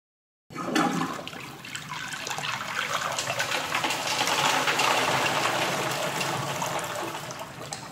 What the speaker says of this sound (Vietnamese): Tiếp theo sẽ là nhấn xả nặng.